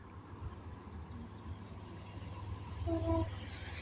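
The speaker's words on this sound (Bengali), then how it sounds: "ট্রেন আসতেছে বন্ধুরা" A distant train draws nearer to the Ashuganj–Bhairab bridge, its low rumble slowly growing louder, with a short tonal horn-like note near the end.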